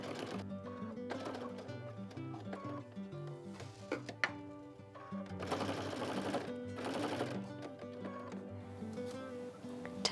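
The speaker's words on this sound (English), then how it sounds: "head to the machine and sew that seam with a 1/4 inch seam allowance" A sewing machine runs a quarter-inch seam on a quilt-as-you-go block with sashing, a steady close mechanical whir with louder bursts of stitching midway, no talk.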